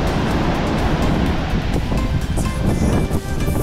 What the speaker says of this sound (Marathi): लाट आली असा माती माती हो गई.